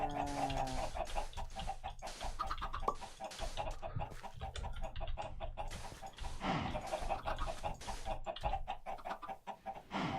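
Chickens in the Minecraft SkyFactory 3 game clucking repeatedly in quick overlapping bursts, a dense busy flock sound running throughout alongside clicky game effects.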